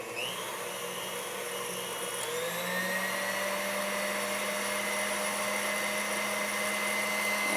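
An electric mixer whips egg whites with a tablespoon of sugar, giving a steady high whirring drone that rises in pitch partway through and then holds evenly.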